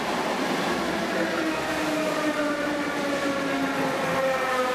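A train rumbles past with a continuous roar and metallic squealing tones sliding slowly downward, loud and steady throughout.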